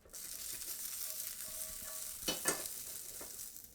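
Sugar snap peas sizzling in a very hot oiled cast iron pan, a steady bright hiss with a couple of sharper pops and stirring scrapes partway through.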